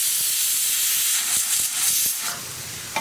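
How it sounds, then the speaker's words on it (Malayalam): Onions sauté in a pan, giving a loud continuous hiss and sizzle close up, with faint scraping taps and the sizzle fading slightly near the end. "ഈ സവോള ഒന്ന് കളർ മാറി വരുന്നത് വരെ വഴറ്റുക."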